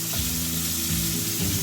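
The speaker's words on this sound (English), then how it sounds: "Okay, now we're going to add the squid." Squid sizzles hard in a pan over medium heat while cooking for a seafood paella, a loud, continuous frying hiss with nobody speaking.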